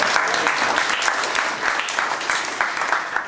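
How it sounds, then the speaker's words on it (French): An audience applauds performers after a short sketch, brisk continuous clapping from a sizable group, moderately loud and even throughout. "On peut les applaudir très fort."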